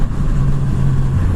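Kawasaki Z900RS motorcycle with an Akrapovic exhaust, its engine running loud and close with a steady low rumble, revving held fairly even with no clear spikes.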